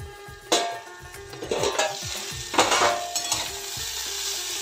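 Cauliflower frying in a little oil in a kadai, stirred with a spatula: steady sizzle with repeated scraping strokes and a couple of louder clattering stirs, close up and with no one talking.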